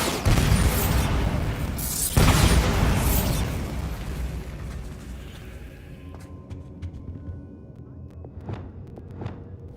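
A Bombarda blasting spell in Hogwarts Legacy bursts loudly in two broadband booms near the start, each with a rumbling tail, then settles into quieter magical crackles and faint chimes.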